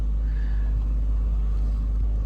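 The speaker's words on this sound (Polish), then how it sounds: "samochód nie ma mocy, żeby e, podjechać pod górę" A car engine straining uphill in Thailand drones with a deep, steady low rumble, sounding labored and underpowered, with no other sounds over it.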